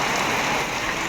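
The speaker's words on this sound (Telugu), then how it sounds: "ఇంకా అట్లనే పడుతుంది వాన." Heavy rain pours down steadily over a village, a dense continuous hiss of drops on surfaces, close and loud with no talking.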